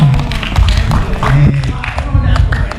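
An audience claps at a company family day gathering, a close, busy patter of many hands blended with crowd chatter and a voice talking over it.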